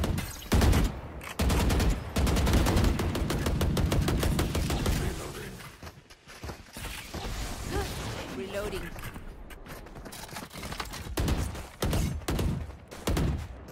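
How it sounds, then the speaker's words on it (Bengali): Rapid bursts of automatic gunfire in a Valorant match, loud and close, with dense fusillades early, a quieter stretch, then more volleys, while a voice talks over the shooting. "আমরা এখানে ফায়ার করছি"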